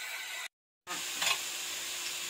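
Tofu sizzling and being stirred in a hot pan for ginisang tokwa, a steady close frying hiss broken by a brief gap, with a short burst of scraping and sizzle partway through.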